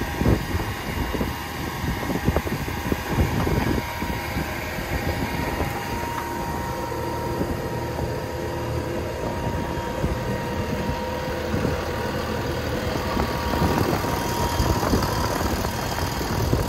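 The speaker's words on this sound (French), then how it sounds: "C'est le tracteur qui conduit" Steady, loud drone of a tractor engine running in a field during spinach sowing, a continuous rumble with no breaks and no talking.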